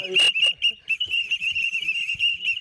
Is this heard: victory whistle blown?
yes